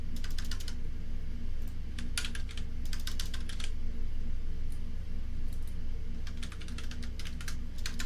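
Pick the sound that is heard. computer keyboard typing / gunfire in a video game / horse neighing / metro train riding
computer keyboard typing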